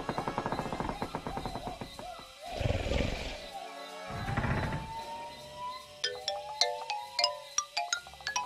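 A short phone ringtone jingle from the video game Lego Jurassic World, bright repeating tones toward the end, following game sound effects and animal roars.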